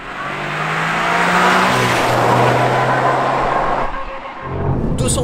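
A Toyota Yaris GR Four with a 260-horsepower engine accelerating hard, loud and close, its engine note climbing steadily through a gear change before easing off near the end, with no talk over it.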